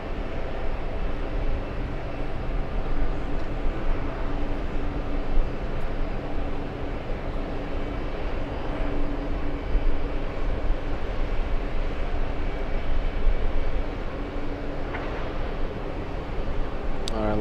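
An airliner lands on runway 13 left at JFK airport, a steady broad roar of jet engines and rushing air that holds evenly throughout, heard from a distance without any voices.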